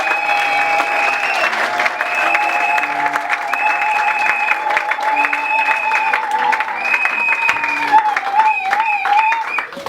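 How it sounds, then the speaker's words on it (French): A church congregation applauds in praise together, a steady dense wash of clapping that holds for the whole stretch, with sung or voiced tones sustained over it. "Acclamons pour le Seigneur."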